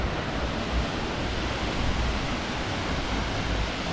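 Bhatta Falls near Mussoorie, a waterfall with clear flowing water, produces a steady broadband rush that stays even and continuous throughout, with no voices over it.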